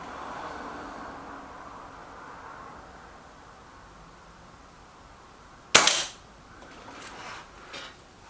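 A single sharp crack from a Reximex Myth air rifle breaks an otherwise quiet outdoor backdrop, followed by a brief fading tail.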